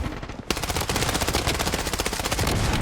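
Rapid automatic gunfire in a shooting video game, a dense, evenly spaced stream of loud shots that begins suddenly and continues steadily to the end, close and dominant.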